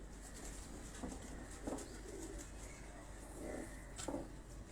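Pigeons of the hockey breed in a loft, with soft cooing bursts and occasional wing flutters over a steady low hum of background noise, no talking.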